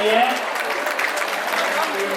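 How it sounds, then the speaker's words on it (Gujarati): Applause from an event audience greeting an honoured couple at a 104th Mahotsav celebration, a short steady burst of clapping that sounds fairly close, with voices in the background. "તાળીઓ ઉઠીને વધાવી રહીએ"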